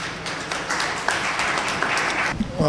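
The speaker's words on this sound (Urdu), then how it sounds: "ان کے لیے بہت ساری تالیاں" Dense, steady applause fills a hall during a political educational session, the clapping continuous and close until it drops off just before a voice begins at the very end.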